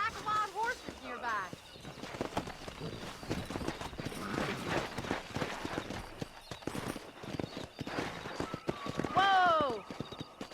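Horses galloping in Red Dead Redemption 2, hooves clip-clopping in a dense, quick patter throughout, with voices and whinny-like cries over it at moments.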